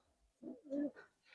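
A Rajgolla fancy pigeon coos in two or three soft, low, throaty pulses, close by and fairly quiet against a still background.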